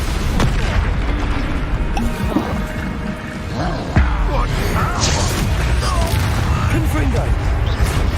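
Spell explosions and combat booms from the Bombarda curse in the Hogwarts Legacy video game, a dense stream of heavy blasts and crashes with a voice talking over the fight.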